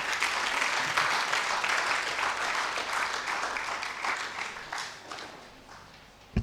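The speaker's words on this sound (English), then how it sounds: "I want us to once more applaud the two speakers for this evening session." Conference audience applauding two speakers after an evening session, a full burst of steady clapping that gradually thins and fades out, ending with a sharp knock.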